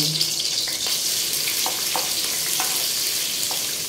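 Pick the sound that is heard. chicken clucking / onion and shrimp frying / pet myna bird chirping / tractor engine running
onion and shrimp frying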